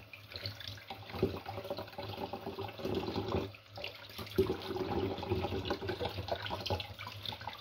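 Leaves are washed by hand in a kitchen sink under a steadily running tap, water splashing and gurgling continuously and close by, with occasional louder splashes and clunks and no talking.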